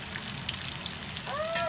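Chilies and tamale mix frying in a pan in a home kitchen, a steady soft sizzle and crackle throughout with a fan running, a brief squeaky scrape near the end.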